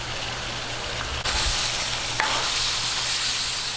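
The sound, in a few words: frying Baguio beans and sweet potato in a pan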